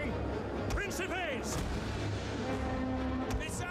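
Artillery units firing in the Total War: Rome II battle game, distant booming shots and battle clamour in the background while someone talks over them.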